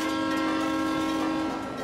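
Train horn in a children's cartoon, a loud sustained steady blast over the rumble of a passing train, holding nearly two seconds before easing slightly, with no talking.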